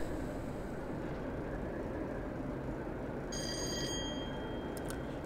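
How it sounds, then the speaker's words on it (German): A train bell in Train Simulator 2016 rings as a cluster of bright tonal strikes partway through, over a steady low rumble of the moving train, with no talk. "Ich finde das cool mit der Klingel."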